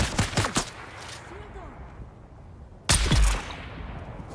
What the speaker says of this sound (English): None of those shots hit.